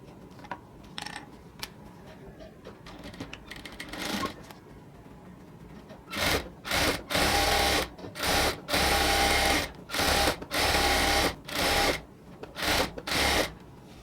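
An electric sewing machine stitches a salwar pant in a home tailoring setting, running in a series of loud rapid bursts of needle chatter separated by short pauses, after a quieter stretch of fabric handling.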